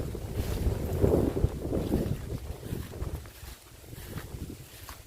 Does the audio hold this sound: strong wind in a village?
yes